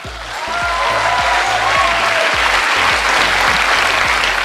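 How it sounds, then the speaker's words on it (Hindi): Loud, dense applause from a motivational-talk audience in India, swelling within half a second and holding steady, with a low rhythmic thumping pulse beneath the clapping throughout. "इस पर तालियां बजाओ।"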